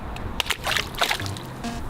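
A Rubik's cube drops into water with a few quick, close splashes and sloshes, followed by gentle slapping and dripping as the water settles.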